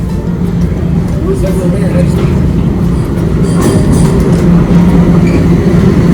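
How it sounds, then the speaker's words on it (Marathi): A Toronto subway train pulls into Union Station with a steady, loud rumble and rolling clatter that fills the whole stretch, while a voice talks over it. "आई आली बघ सबवे"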